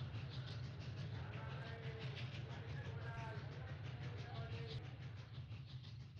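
Busy railway station on a platform at Surat, India, with a steady loud rumble of a train and rolling rail clatter filling the whole stretch, along with diffuse crowd murmur.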